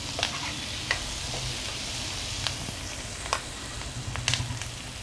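Onion for misal fries in a pan with a steady, close sizzle, broken now and then by soft clicks and scrapes of stirring.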